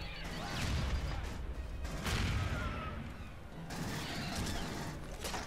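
A grenade goes off in the sci-fi shooter Aliens: Colonial Marines, a broad, rumbling burst that swells at about one and two seconds amid dense game noise and clatter, with a further surge near the end.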